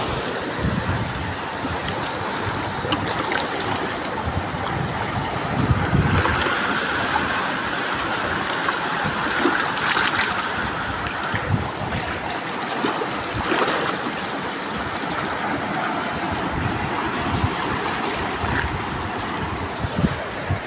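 Steady roar of rushing floodwater, loud and continuous, with wind buffeting the microphone and no voices.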